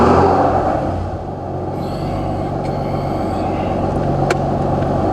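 A running car engine that has stalled twice this morning, a loud steady low rumble and mechanical chatter from close by, with a few faint sharp ticks on top and no talk.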